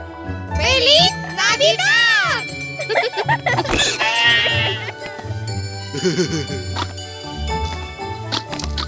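In a Spanish-language children's Christmas song, a sung voice imitates a black sheep's bleat, wavering and bright, over jingling bells, music and other cartoon singing voices.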